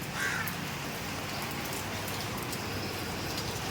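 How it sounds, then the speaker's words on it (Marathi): Steady rain falling and pattering on surfaces in Nala Sopara, Mumbai, a dense continuous hiss throughout with no talking. "आज पाऊस पडतोय बघा"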